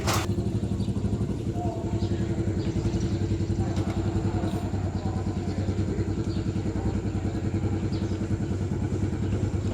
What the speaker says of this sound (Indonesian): Ini genset kalau kami di lapangan.